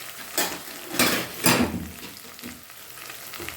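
Food is stirred in a pot during koshari preparation, with a few distinct scraping strokes against a constant frying sizzle and no talk.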